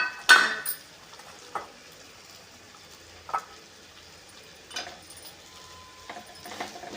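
Gokarakaya being stirred into a cooking paste in a pan for a Rajasthani-style curry, with a few spaced scraping strokes and soft clinks over a low, steady sizzle, heard close and without talk.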